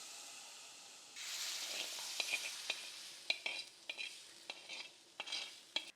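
Crushed Kashmiri chili hits hot tempering oil with a sudden soft hiss and sizzle, and a spoon scrapes and clicks against the pan in several sharp stirring strokes.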